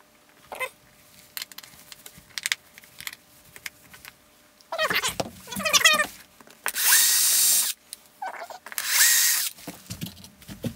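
A power drill boring holes into a driftwood key holder, several loud whirring bursts up close separated by handling noises and short pauses, with no speech.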